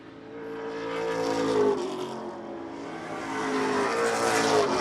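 Race cars at Wiscasset Speedway roar through the turns in close battle, engines droning and rising in pitch as they accelerate, loud and continuous with layered harmonic whine from multiple cars.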